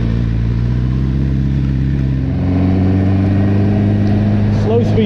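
MV Agusta Brutale motorcycle ridden at slow speed, a loud low engine hum with a small shift in revs partway through. A rider talks over it.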